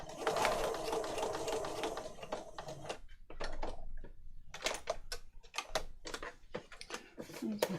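A sewing machine runs a straight stitch in bursts, a close rapid mechanical clatter that starts and stops with short pauses and clicks between runs, during work on a junk journal.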